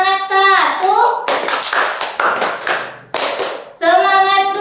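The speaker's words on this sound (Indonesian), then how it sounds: "Ibu ada satu ice breaking yang namanya itu tepuk semangat" A teacher leads a classroom 'tepuk semangat' ice breaker: bursts of rhythmic hand clapping come between her spoken counts, sharp and close, with her voice at the start and end.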